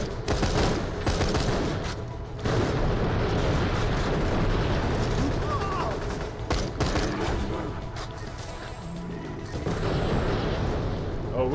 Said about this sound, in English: They're throwing grenades at us over here.